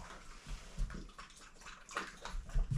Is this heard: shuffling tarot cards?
no